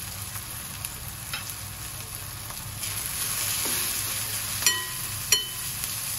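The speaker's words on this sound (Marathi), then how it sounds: "आता आपण यावर हळद, धणे पावडर आणि गरम मसाला घालूया" Tomato masala for a green-masala prawn curry sizzles in a pan after turmeric, coriander powder and garam masala go in, a steady soft frying hiss with a few light scrapes and taps from stirring.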